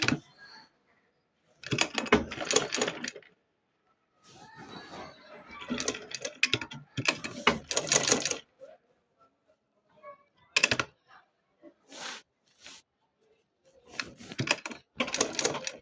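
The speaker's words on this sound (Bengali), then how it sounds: "এরকম করে আমি আমার পুরাটা পায়ের সেলাই করে নিব।" A sewing machine stitching the leg of a salwar runs in several bursts of rapid rattling, some several seconds long, others brief, separated by silent pauses, close and clear with no talking.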